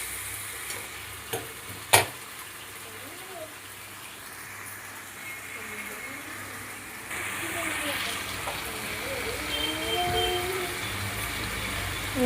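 Water poured into a frying potato and egg curry brings a sustained sizzle and bubbling under occasional stirring knocks and scrapes, with a voice speaking quietly during it.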